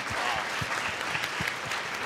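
An audience at the Antigo Idol 2018 talent show gives a brief, steady round of applause, a dense patter of nearby hand claps lasting about two seconds.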